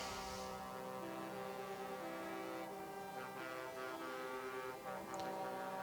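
Procession of painted show trucks passing at the Nürburgring race circuit, a distant, sustained horn blare with layered droning tones over low engine rumble, faint and continuous.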